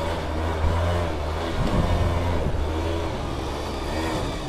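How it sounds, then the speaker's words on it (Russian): A cold scooter engine runs and revs before warming up at the start of the motorcycle season, a near, steady buzzing idle with a few short throttle blips rising and falling. "Скутер не прогрелся еще."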